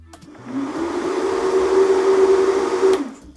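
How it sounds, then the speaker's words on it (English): A caravan's dust pressurization system starts at the press of a button and runs as a steady, close mechanical whir with a fan-like hum and a high tonal whine. It holds level for about two and a half seconds, then cuts off. "simply press the button and it pressurizes the van"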